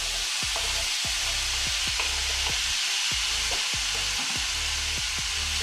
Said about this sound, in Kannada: ಈಗ 1 ದೊಡ್ಡ ಸೈಜ್ ಟೊಮೆಟೊ ಹಾಕ್ಕೊಳ್ತೇನೆ.